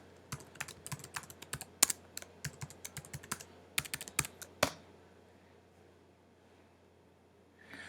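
Someone types a username and password on a computer keyboard, producing a close series of quick, irregular key clicks in bursts that stop about halfway, followed by quiet.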